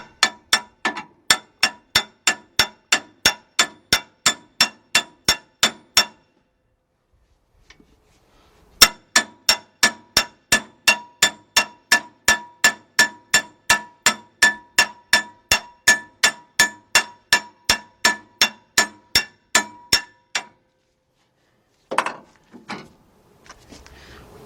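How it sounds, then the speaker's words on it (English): A hammer strikes a 2006 Cadillac DTS front brake caliper bracket in sharp, evenly spaced metallic clangs, a run of about fifteen, a brief pause, then a longer steady run before a few scattered knocks, close and loud with no talking. "let me get me a hammer and start tapping on this"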